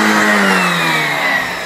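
Car engine revving hard as the car pulls sharply away, a loud close roar with pitch sliding as it accelerates, no talk over it.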